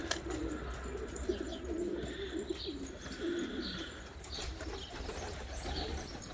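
Domestic pigeons in a loft cooing softly, with several low, repeated throaty coos in short bursts over a quiet background, together with faint chirps and a brief rustle of wings.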